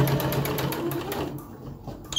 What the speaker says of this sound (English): now I'm just going to finish out to the corner